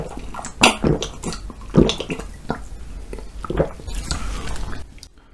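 A homemade lamb patty hamburger is eaten up close, with a series of soft, wet bites and chewing sounds in irregular bursts, with no talk.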